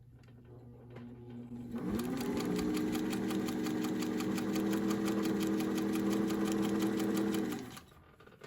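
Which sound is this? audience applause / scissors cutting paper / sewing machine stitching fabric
sewing machine stitching fabric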